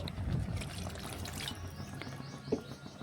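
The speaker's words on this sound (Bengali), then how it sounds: "এই দেখুন আমি 1 বাটি জল দিয়ে দিচ্ছি।" Water poured from a bowl into a small fish and potato curry in a pan gives a soft, close trickle and splash, followed by quieter bubbling and a single brief clink near the end.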